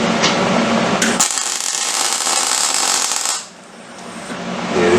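Power tool abrading powder coat off a metal part, a harsh steady grinding hiss that cuts in after a second, runs loudly, then drops away before resuming.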